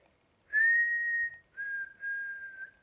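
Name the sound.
whistled imitation of bird call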